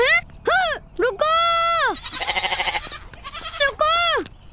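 Cartoon goat bleating in an animated series, several wavering bleats and a buzzy drawn-out cry in quick succession, loud and close, with voice-like quality and no speech between them.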